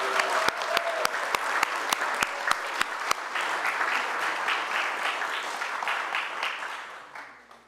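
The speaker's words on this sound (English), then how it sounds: "Please offer our AV team a huge round of applause for their perseverance and expertise." A congregation at a Thanksgiving church service gives the AV team a big round of applause: a few sharp early claps swell into dense, steady clapping from many hands, then fade out near the end.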